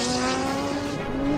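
Reese Millen's race car leaving the start line at Pikes Peak, a loud, close engine scream with a strong steady tone and tire noise through the whole short burst.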